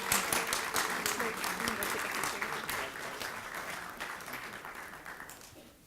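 Applause from a town hall audience honoring a staff award, dense clapping that starts loud and slowly tapers over several seconds, with some speech mixed in.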